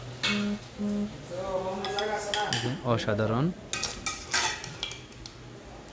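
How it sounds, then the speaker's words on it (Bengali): Cooked sea crab curry being scooped from an iron wok into a bowl: close metal spoon scrapes and clinks against the pan and dish, with a voice briefly speaking and making drawn-out sounds over it. "আমি জাস্ট এটাকে কড়াই থেকে এবার বাটিতে নিয়ে রাখবো।"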